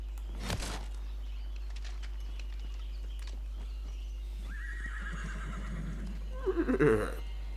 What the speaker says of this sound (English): Horse noises.